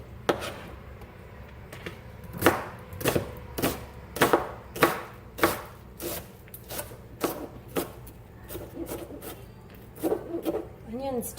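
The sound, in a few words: chopping an onion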